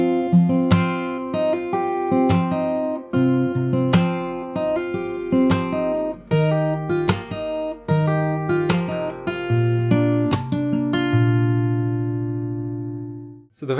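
Solo acoustic guitar picked fingerstyle, playing the intro of a song: a steady run of plucked notes and ringing chords, close and clear, ending on a sustained chord with no talking.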